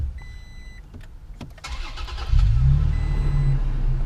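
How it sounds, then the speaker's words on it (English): A 2017 Toyota Tacoma TRD Off Road is push-button started: a few clicks, a brief starter whir, then the engine catches and settles into a loud, steady idle close by. "Right below the center, this is a push start type of engine."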